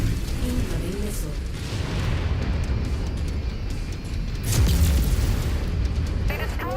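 Missiles explode in MechWarrior 5 as heavy booms over a constant low rumble of mech combat. A louder impact hits around the midpoint, and a voice talks over the din.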